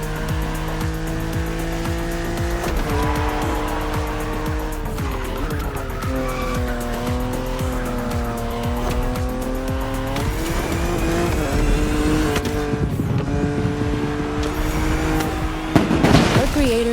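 BMW car in The Crew Motorfest racing game, engine roaring loudly and steadily with rising and falling revs and gear shifts, tires squealing near the end, while people talk.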